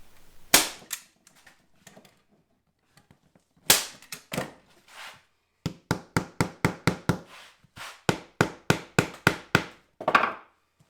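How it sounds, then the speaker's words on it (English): Sharp hammer blows seat staples into a Honda VF700 motorcycle seat pan in uneven groups, a few isolated knocks followed by a quick steady run of taps, close and loud against quiet gaps. "I had to follow up with a hammer to fully seat the staples"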